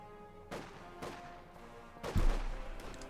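A .50 cal machine gun fires in Company of Heroes 2, a few moderately distant bursts of gunfire over steady battlefield background noise, with the last burst the loudest.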